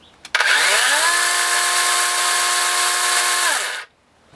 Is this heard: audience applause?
no